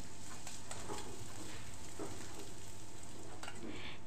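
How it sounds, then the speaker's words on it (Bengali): Sliced onions for a Bengali fish-fat chorchori sizzle in a little oil over a medium flame while being stirred, a soft steady frying hiss with occasional scraping stir strokes close by. "মিডিয়াম ফ্লেমে পেঁয়াজটাকে একটু নাড়াচাড়া করে নেব"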